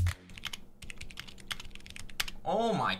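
A $300 custom mechanical keyboard is typed on up close, giving quick, crisp keystroke clacks in a brisk irregular stream, followed by a short burst of voice at the end.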